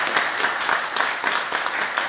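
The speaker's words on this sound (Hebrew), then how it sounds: "רבותיי, כפיים חדש." A Torah-class audience in Afula breaks into applause, a dense steady clatter of many hands clapping with no talk over it.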